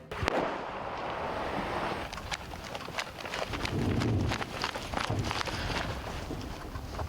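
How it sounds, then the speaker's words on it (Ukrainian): Far-off explosions from shelling near Klishchiivka thud now and then beneath a steady rumble of wind and background noise. "На горизонті щось періодично вибухає"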